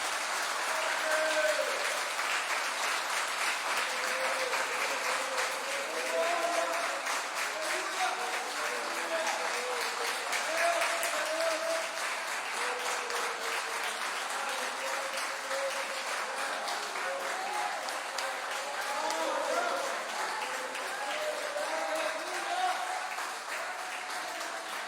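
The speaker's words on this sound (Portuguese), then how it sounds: "dar nessa noite a melhor salva de palmas que o nosso Deus merece" Church congregation applauding in a long, steady wash of clapping during an evening worship service, loud and continuous throughout with a few voices faintly mixed in.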